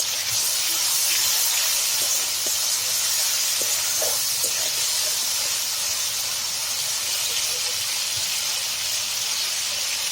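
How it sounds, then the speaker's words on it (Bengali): Spice paste with green chilies sautés in a pan with a constant loud hiss, with occasional faint pops and spatters over ten seconds. "যাতে মশলাটা ভালোভাবে কষানো হয়ে যায়"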